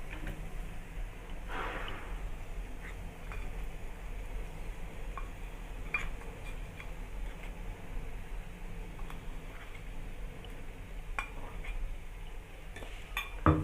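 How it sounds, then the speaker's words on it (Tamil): Okra fry being stirred in a pan after ground spice powder is added, giving steady scraping and light clinks of a utensil against the metal pan, close and alone over a constant background hiss. "சேர்த்துட்டு நல்லா கிளறி விட்டுருங்க."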